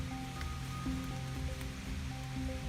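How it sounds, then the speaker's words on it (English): Soft, steady rain patter in a forest by old cabin ruins at Blakers Ridge, a diffuse wash of falling drops, fairly quiet, with a faint low hum underneath. "Sounds like the rain's starting to pick up now."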